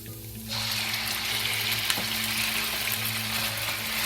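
Shredded pork hits hot oil and breaks into a loud, steady frying sizzle that continues close and unbroken, with no voices over it.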